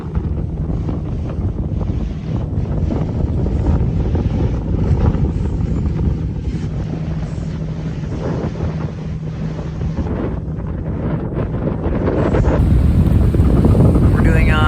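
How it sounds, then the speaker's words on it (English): Steady low drone of one boat engine under strong wind rumble and water noise on open sea, continuous throughout, growing a little louder near the end. "We're doing a close hauled course with our engine, one of our engines running"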